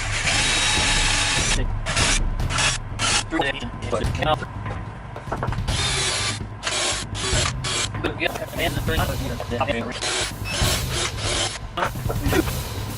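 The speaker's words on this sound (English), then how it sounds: "these 2x4s are going to get glued and screwed with some Craig 1 1/4 inch screws to those 2x6s" A power drill drives 1 1/4 inch screws through glued 2x4s into 2x6 framework for a farmhouse table, in loud repeated bursts of whirring separated by short pauses, with rubbing and handling noises in between.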